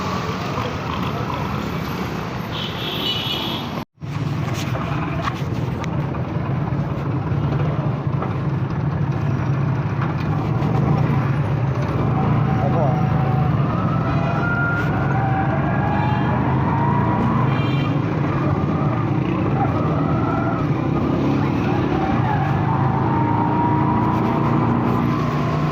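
Dense roadside traffic rumbles continuously for the whole span, a steady wash of car, truck and old bus engines with passing vehicles swelling now and then on a busy jammed street in Taxila.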